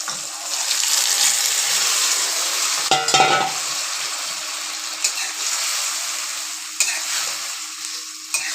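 Pumpkin greens hit hot oil in a pan, setting off a bright, continuous sizzle that surges as they land around the third second, then settles into a steady hiss with a few small clatters, near and alone.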